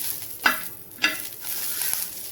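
Green chillies roast in a pan for thecha, a faint crackle and sizzle broken by two or three brief scraping stirs.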